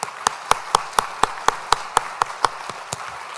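Applause at a school address, heard as a steady run of about a dozen sharp, evenly spaced claps that fade slightly toward the end, with no talking.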